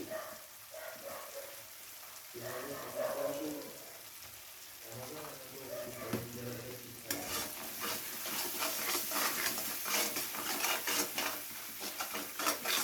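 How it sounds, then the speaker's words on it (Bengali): Spice paste sizzles and fries in hot oil while being stirred for a potato and pointed gourd korma, a steady crackling hiss with spoon scrapes that grows louder and denser partway through. "মশলাটাকে কিছুক্ষণ তেলের সঙ্গে কষিয়ে নিয়েছি।"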